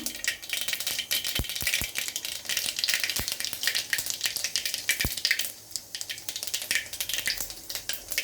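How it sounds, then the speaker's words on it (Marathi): Cumin and mustard seeds crackle in hot oil, a steady frying hiss broken by sharp scattered pops and an occasional stirring clatter. "आपले जिरे पण तडतडून झालेले आहेत"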